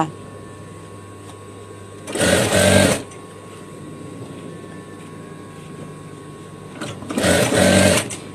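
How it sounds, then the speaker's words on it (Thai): Sewing machine stitching an elastic waistband onto patterned Thai loincloth-print trousers, two loud bursts of fast motor whir about a second each, separated by a quiet pause. "เราก็จะเย็บห่อยางยืดแบบนี้เลยค่ะ"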